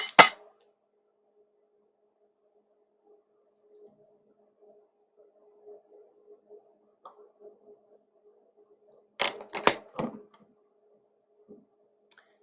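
A few crisp snipping cuts from scissors trimming ribbon on a handmade card, a short burst at the start and a cluster of quick snips later, close and clear over near silence.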